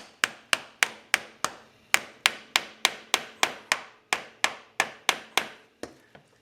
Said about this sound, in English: I will take a small flat blade screwdriver, tap it in,